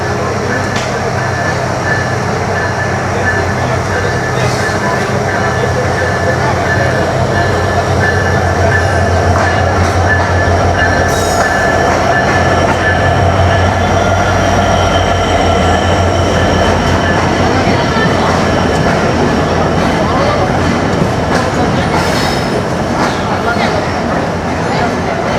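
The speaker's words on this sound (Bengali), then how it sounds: "এই যে ট্রেন কিন্তু চলে আসছে" The Titumir Express pulling into a station platform, a loud continuous rumble of rolling wagons and clattering wheels with faint squeals, with talk audible over the din.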